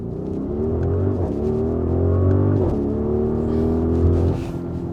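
Audi RSQ8 SUV launching hard from a standstill in launch mode, a loud close engine roar climbing steadily in pitch with brief dips at gear shifts, sustained throughout without talk.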